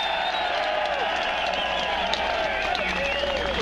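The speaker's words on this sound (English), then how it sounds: "Give yourself a round of applause." A crowd at a Second Amendment rally in Albany, New York, applauds and cheers continuously, with whoops and whistles rising over a dense wash of clapping.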